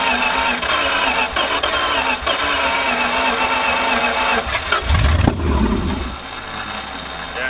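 An abandoned muscle car cranks over and then catches for its first start in 35 years, the engine churning loudly and unevenly before firing into a rough, surging rumble, close by.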